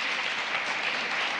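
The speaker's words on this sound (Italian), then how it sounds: "accogliamo con un grande applauso" Dense, continuous applause from a television studio audience on an Italian variety program as comedian Salvatore Gisonna is welcomed on stage, a sustained wash of many hands heard alone.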